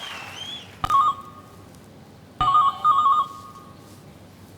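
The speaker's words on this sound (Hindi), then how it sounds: "किसका फोन बज रहा है भाई?" A mobile phone ringtone plays during the Hindi TV game show 10 Ka Dum, sounding as two loud, close bursts of a repeating electronic trilling melody separated by a short pause.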